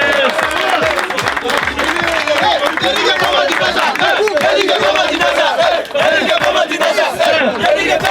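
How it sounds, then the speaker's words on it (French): A large crowd at the 2024 Africa Cup of Nations celebration for the Côte d'Ivoire team cheers, shouts and claps continuously, a loud dense roar with voices shouting over it. "Un tonnerre d'applaudissements pour la Côte d'Ivoire, s'il vous plaît."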